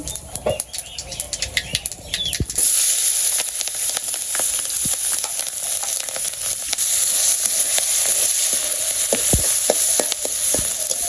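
Whole cumin and radhuni seeds drop into hot oil and burst into a loud, dense, crackling sizzle after a few seconds of quieter rustling, continuing close and steady with sharp pops, no voices.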